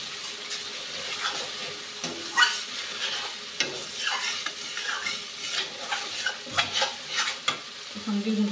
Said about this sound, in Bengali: মশলাটা খুব ভালোভাবে ভেজে দিয়েছি।